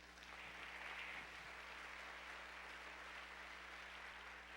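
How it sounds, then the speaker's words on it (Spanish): A church congregation applauds during a sermon, a dense, steady wash of clapping that stays at an even, moderate level from a distance, under a constant low hum. "Dele un aplauso a Dios."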